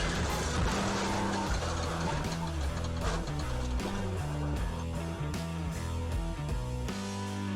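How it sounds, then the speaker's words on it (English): Car traffic on a US street where a swerving car ran into a bus lane and struck at least four cars: continuous loud road noise with tire squeal and skidding, plus sharp impact bursts throughout. "He decided to swerve into the bus lane to avoid a collision, but made it even worse,"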